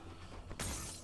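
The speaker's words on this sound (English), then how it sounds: "So yeah, chuck porcelain on a bit of glass, it'll turn into paper practically." A glass car window shatters from thrown spark plug porcelain in The Walking Dead video game: one sudden, sharp crash after a near-silent moment, with fragments spraying briefly.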